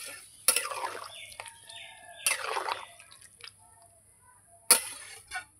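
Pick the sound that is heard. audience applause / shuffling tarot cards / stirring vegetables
stirring vegetables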